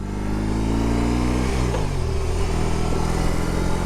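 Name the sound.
BMW R18 Transcontinental motorcycle engine while cornering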